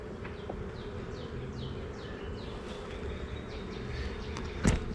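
Bees buzz steadily around a beehive, a close, continuous drone with wings whirring past in occasional swells, plus a brief sharp knock near the end.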